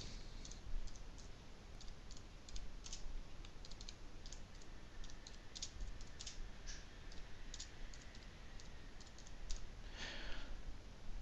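Quiet typing on a computer keyboard, including a press of the backspace key, with scattered soft clicks spread across the stretch and a faint cluster of keystrokes near the end.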